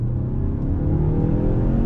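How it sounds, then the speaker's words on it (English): A 2021 Mazda CX-5 Carbon Edition compact SUV in sport mode pulls away from a dead stop on throttle, its engine a steady, loud, low drone building smoothly with no gear changes or talk. "I want to do a little on-throttle acceleration test. We do have it in sport mode from a dead stop on throttle."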